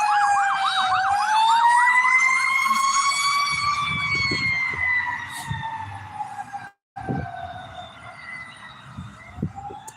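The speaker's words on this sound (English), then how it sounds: "We have a fire truck headed out." A fire truck siren wails loudly as the truck heads out near the Dalton Police Service Center, its rising and falling tone sweeping steadily before fading, with a few brief knocks and faint background noise underneath.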